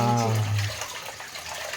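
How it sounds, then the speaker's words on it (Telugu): A short splash of rice-washing water poured onto plants, with a brief low gurgle at the start fading into a soft trickle. "ఈ నీళ్ళు తీసుకొని చెట్లకు పోస్తాను"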